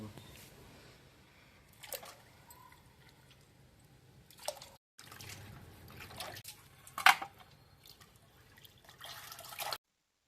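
Raw chicken pieces being washed in water for biryani, with soft intermittent splashes, drips and squishes of handled meat at close range, separated by quiet pauses.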